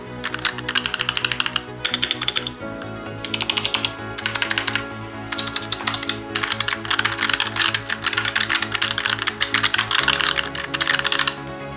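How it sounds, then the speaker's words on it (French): Typing on a full-size Asus keyboard with gray switches makes a dense, steady run of close clicky keystrokes over a low musical background, with no talk. "Et maintenant le bruit du clavier c'est ça."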